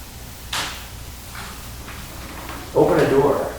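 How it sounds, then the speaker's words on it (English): A door unlatches and opens: a brief sharp click of the latch, faint creaks, then a louder scraping swing of the door near the end, with a person talking. "you can clearly hear the door unlatch in order for it to open up"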